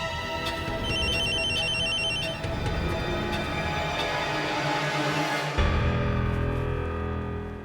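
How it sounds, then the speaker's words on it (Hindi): A telephone rings on and on with no one picking up, its repeating electronic ringtone sitting over a steady music bed in a Hindi TV drama scene. "शोम फोन ही नहीं उठा रहा है।"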